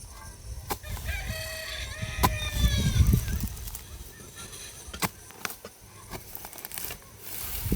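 Chickens on a rural Philippine farm, with a rooster crowing and hens clucking in several bursts over scattered background noise and rustling.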